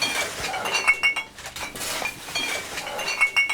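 Glass bottles clink and chink against one another as they are dug out of a long-uncleaned WW2 bunker, with repeated sharp bright clinks scattered irregularly over a few seconds, fairly close, with no talking.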